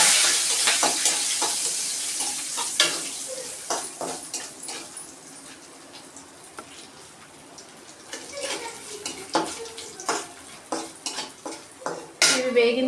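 Cumin seeds and dried red chillies fry in a pan while lunch is being cooked. A soft sizzle runs underneath, broken by frequent metallic clinks and scrapes from stirring.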